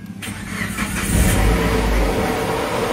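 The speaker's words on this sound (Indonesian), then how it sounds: "Kita akan coba nyalakan dulu mesinnya." A Suzuki Grand Vitara 2000cc engine cranks and catches, then settles into a loud, steady idle with a harsh whine from a worn water pump bearing, close up with no talking.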